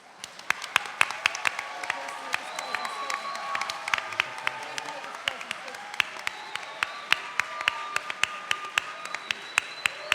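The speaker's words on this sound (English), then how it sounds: "And now you're allowed to clap." Audience applause at a 2013 Nassau County Executive forum on sustainability, a sparse room of individual hand claps, sharp and distinct, continuing steadily for about ten seconds.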